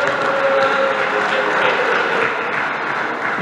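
A crowd at a sports ball gives a big round of applause for the event organisers, a dense, even wash of clapping that stays loud and steady throughout.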